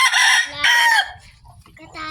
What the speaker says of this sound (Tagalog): Yan po yung manok na panabo.